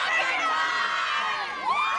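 Sorority girls in the stands at a Cal Golden Bears college football game against Arizona State cheer and shout in high voices, a bright crowd whoop rising and falling, with a few swooping yells near the end.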